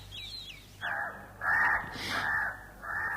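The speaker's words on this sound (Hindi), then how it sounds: "पास के लंबे खजूर के पेड़ से उड़कर एक कौआ" A crow near a tall date palm gives a few harsh, nasal caws in slow succession, fairly close and clear over faint background ambience, with no talk.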